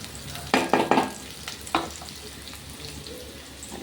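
Keerai stalk poriyal is stirred and fried in a pan, with several close scraping stir strokes and a soft sizzle continuing underneath. The strokes come in a quick cluster followed by a single later one.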